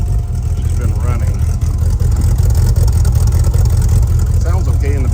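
A hot rod car engine that has not run in a while, idling slightly low with a deep, loud, steady rumble close by, while people talk over it.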